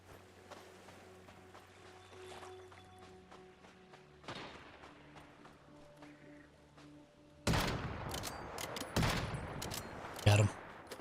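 Gunfire in the video game Once Human, quiet game ambience at first with a single shot, then a sudden loud volley of rapid shots and bursts toward the end.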